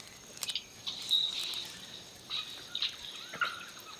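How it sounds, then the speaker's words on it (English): A chorus of forest birds in South Africa sings near and far, overlapping high chirps, trills and whistles repeating in bursts over a soft insect hum, with no voices. "A booming call joins the ceaseless chorus of birdsong."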